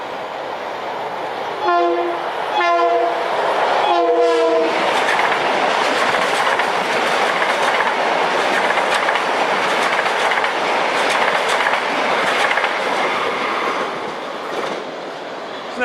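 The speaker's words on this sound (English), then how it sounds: "And that was 2074 en route from Atlantic Terminal, Brooklyn to Ronkonkoma at 6:42." Long Island Rail Road train passing close by, sounding three loud horn blasts in the first few seconds, followed by a sustained rumble and rhythmic wheel clatter as the cars roll past, with no talk.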